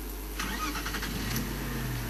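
A car engine starts and settles into a low idle on a nighttime wildlife drive, a brief crank followed by a steady mid-pitched hum, heard close with no talking.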